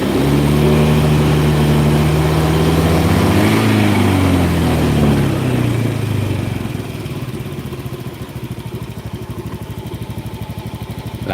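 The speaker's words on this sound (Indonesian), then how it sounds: "Langsam, pengapian, putaran mesin kita tambahin dikit" Honda Scoopy scooter engine running close up, a loud steady idle with harmonic drone whose pitch rises and falls briefly as the revs are adjusted, then settling into a lower, rougher even idle.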